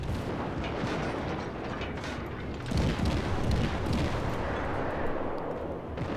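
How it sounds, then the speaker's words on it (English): Warship guns boom in a naval battle in World of Warships, aboard the cruiser Erie; heavy rumbling blasts roll continuously, with a louder report partway through and no talking. "I'm just going to fire from third person so you can see the guns actually fire"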